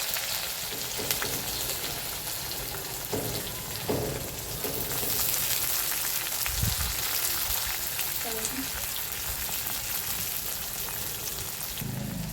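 Chopped onion with cumin and curry leaves frying in hot oil in a pan, a continuous close sizzle with occasional stirring clinks and scrapes.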